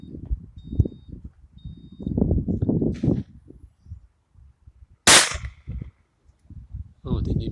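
Airgun fired at clay targets outdoors, a single sharp crack near the middle that stands out after a stretch of people talking, followed by more talk.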